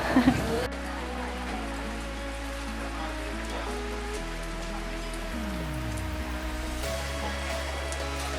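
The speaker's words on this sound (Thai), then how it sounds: "ฝนตก" Rain patters steadily on a boat during a floating market trip from Lam Phaya toward Wat Bang Phasi, a constant hiss over a droning engine hum whose pitch shifts.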